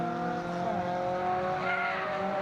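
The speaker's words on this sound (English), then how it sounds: "locking up the tyres going into turn 11." Tyres squeal under a locking race car braking into turn 11 at Taupo during a 2K Cup race, a sustained squeal with engine tone, moderately distant and steady, with no talk.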